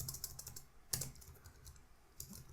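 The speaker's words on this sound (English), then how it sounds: "I'm going to type swipe up" Quiet, close typing on a computer keyboard, with a quick run of light key taps, a louder press about a second in, then more scattered taps.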